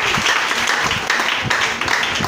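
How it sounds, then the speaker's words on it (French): A church congregation applauds to acclaim God during a service, a dense, continuous wash of clapping held at a steady level throughout. "Est-ce que tu peux acclamer ton Dieu ce matin?"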